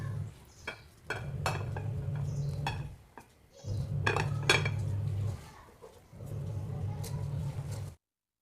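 A utensil scrapes and stirs a rice flour mixture in a pan over low flame, coming as three sustained bouts of close, steady stirring separated by brief pauses, with light metallic clinks.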